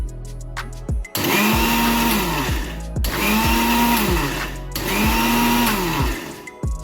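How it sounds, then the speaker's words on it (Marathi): A kitchen mixer grinder run in pulse mode to powder roasted chana dal and spices for bhel puri, roaring loudly in three bursts of about two seconds each, with brief pauses between and a short click before the first. "आपल्याला मिक्सर इथे पल्स मोड मध्ये करून घ्यायची आहे"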